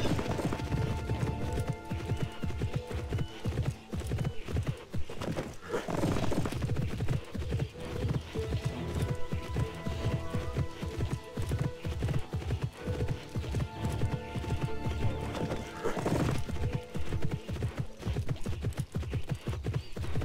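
Rhythmic hoofbeats of a galloping horse in a horse-riding video game pound steadily throughout, with an occasional whinny, set against a dense, busy game soundtrack.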